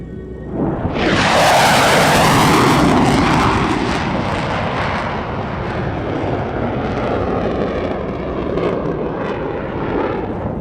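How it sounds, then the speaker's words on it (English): A Royal Malaysian Air Force FA-18D Hornet jet makes a high-speed pass at an air show, its roar swelling suddenly to a loud peak then sliding down into a long receding rumble. "This year's action began with a high-speed pass by a Royal Malaysian Air Force FA-18D Hornet."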